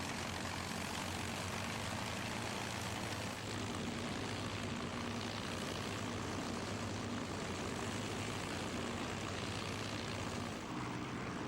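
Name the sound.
vintage warbird aircraft engine at Duxford air show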